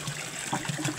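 Muddy water trickling and flowing out of a village drinking-water structure under construction in Ramechhap, Nepal, a soft, steady, faint dribble.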